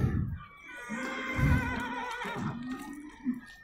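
A horse whinnies in a long, wavering neigh, close by and fairly loud, with a few short snorts and bursts around it.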